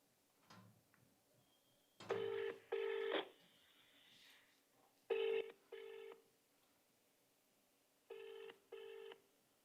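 A phone line ringing: three pairs of electronic ring bursts separated by pauses, clear and close, with faint background hiss between rings.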